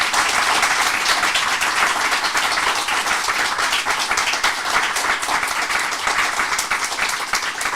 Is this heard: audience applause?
yes